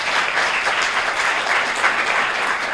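An audience at a high school fine arts show gives the art teachers a round of applause, a loud, continuous, even patter of many hands clapping.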